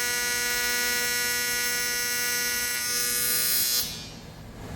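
MIG welding of aluminium plate with shielding gas, a loud steady electric buzz with a strong hum running continuously before it cuts off abruptly near the end, leaving quieter background noise.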